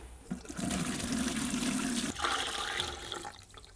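Atomic 15 alkaline cleaner solution pours from a 5 liter jug into a bucket, a steady gushing splash of liquid for about two seconds that shifts to a lighter trickle and tapers off.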